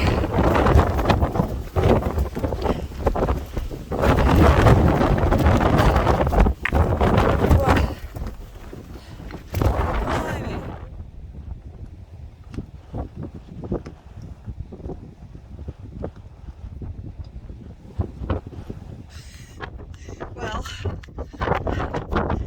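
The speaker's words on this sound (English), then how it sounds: "I guess I should be thankful that the wind's blowing me up the hill" Strong gusting wind on a Snowdonia hillside, loud buffeting roar against the microphone that eases partway through, with a person talking and breathing hard while climbing.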